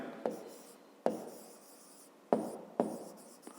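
A pen writes a math solution on paper in short separate strokes, four crisp scratchy bursts each trailing off, close and quiet.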